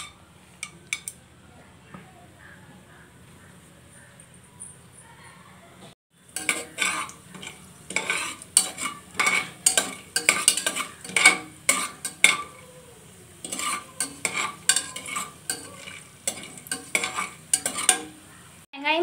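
Whole spices hit hot oil in a pressure cooker for egg biryani. After a quiet opening, bursts of sizzling and clinking utensil scrapes begin and repeat irregularly, loud and close.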